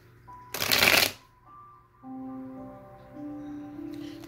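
Tarot cards are shuffled in one quick, close riffle lasting about half a second, followed by a quiet stretch with faint tonal background sounds and no speech.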